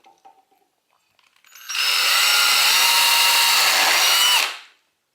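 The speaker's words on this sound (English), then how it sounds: "I'm going to take my drill again, this time with an even smaller bit, and I'm going to pre-drill through both these holes" A power drill with a small bit bores a pilot hole through pallet wood into a 2x4 end piece, spinning up quickly to a loud steady whine for about three seconds, then cutting off abruptly.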